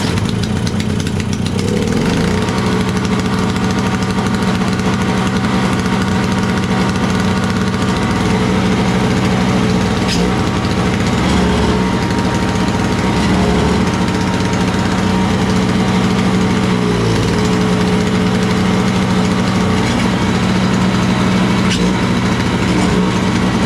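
A Simplicity 522 snowblower's small engine running with the choke on, a close, loud, steady idle with a constant buzzing drone and slight unevenness throughout, alone without talk.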